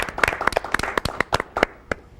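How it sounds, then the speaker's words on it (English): A small audience claps for a performer in a short burst of distinct, close handclaps that stay fairly even before tapering off after about two seconds. "Megan, round of applause for her."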